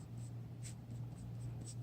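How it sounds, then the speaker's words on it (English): A piece of paper is scratched and scuffed in short repeated strokes, faint and close, over a low steady hum. "distress this piece of paper right here"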